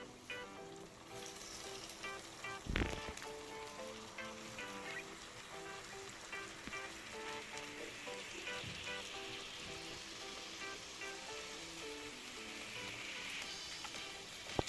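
Chicken liver fries in a pan of spiced oil with a faint, continuous crackling sizzle, and a brief louder burst comes early on.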